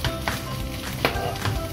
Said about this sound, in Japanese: おー、ベーコンが弾きましたね。